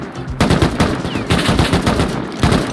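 Rapid AK rifle gunfire in the video game Rust, loud, close bursts of automatic shots firing in quick repeated volleys with brief gaps between strings.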